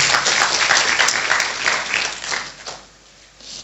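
A church congregation at an Ascension Day worship service claps together in a broad, even burst of applause that holds strong, then thins and fades out over the last second.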